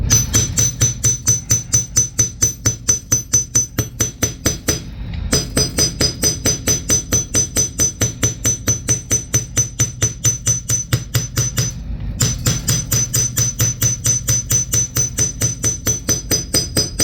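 Rapid, steady hammer blows flattening a metal frame pendant on a hard surface, loud and close, falling in an even rhythm with two brief pauses.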